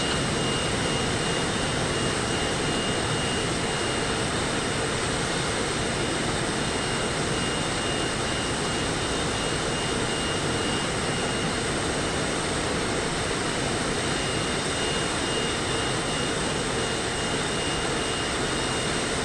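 A plane in Microsoft Flight Simulator touches down on a runway in Jamaica, its engine and airflow forming a loud, steady roar that holds unbroken throughout with no voices.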